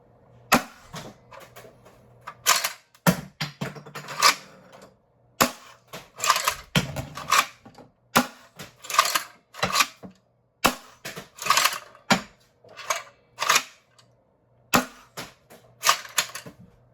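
A Nerf Breacher shotgun prototype fired repeatedly, producing a long run of sharp, close snapping pops with short pauses between groups of shots and no voices.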